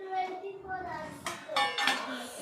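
Dishes and pots handled while doing the washing up, with metallic clinks and clatters scattered under a woman's speech at moderate volume.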